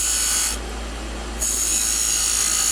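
A lathe tool trims a spinning wooden chess rook, a loud steady scraping hiss that eases briefly partway through and then resumes at full strength, close and unbroken.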